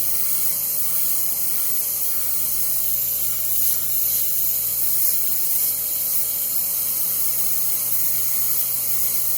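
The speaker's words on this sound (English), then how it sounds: "I'm hitting it with paint, and I'm hitting it with air" An airbrush sprays opaque paint and air onto the background of a wolf painting, giving a continuous close hiss that holds steady throughout with only slight swells.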